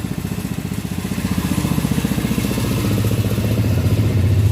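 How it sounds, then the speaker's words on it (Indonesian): An engine-driven machine mixing oyster mushroom growing medium runs close and loud, its rapid rhythmic chugging steady throughout with a clattering mechanical edge. "Ini mesin untuk menggiling atau mengaduk ya. Persisnya itu mengaduk ya campurannya."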